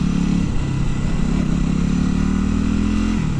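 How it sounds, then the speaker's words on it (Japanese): Stock exhaust of a Yamaha WR250X motorcycle idling and running steadily, a continuous close, loud engine drone with a faint crackle but no distinct pops, with no voices. "しかも純正でもマフラーの音結構さバンバン言うし"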